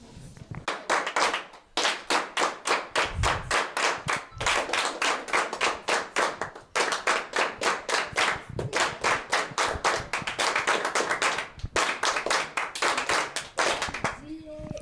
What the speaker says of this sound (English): I would like everyone to stand up and clap for everybody